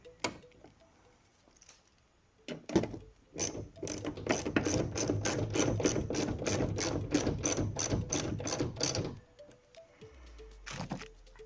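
A ratchet clicks rapidly and steadily in a long run while tightening bolts on a Ford F150 taillight, close and clear, with a few scattered clicks and clunks before and after.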